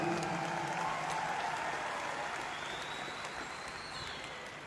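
Hall audience at a network marketing event in India breaking into loud, dense applause that holds steady and then eases slightly toward the end.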